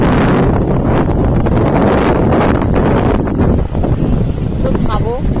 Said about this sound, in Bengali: নদী ধারে হাওয়ার আওয়াজটা দেখো কি অবস্থা